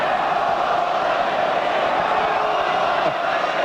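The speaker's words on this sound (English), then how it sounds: "And the crowd starting their familiar chants" A large rugby league stadium crowd at a State of Origin match chanting in a steady, massed roar, continuous and distant-sounding, with a commentator's voice faintly underneath.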